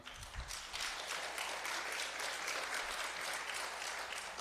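Church audience breaks into steady applause after a vicar general's remarks, a broad continuous wash of many hands clapping at moderate distance, sustained evenly for several seconds and swelling slightly at the end.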